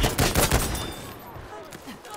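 Machine gun fire in a video game comes as several loud bursts early on, then fades to scattered quieter shots and background noise.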